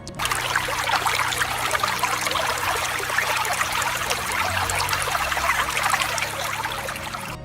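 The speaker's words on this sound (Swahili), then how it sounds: "Maji ya mto huu huonekana yakitiririka kwa utulivu." A river flows gently beneath a bridge in a forest reserve, a steady, continuous trickling rush of water that stays close and even throughout, with no voices.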